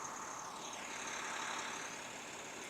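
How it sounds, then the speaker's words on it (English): Simulated truck engine idle played from a phone app for a LEGO Technic Volvo articulated hauler, a faint, steady droning hum heard alone. "So you get the sound from the truck."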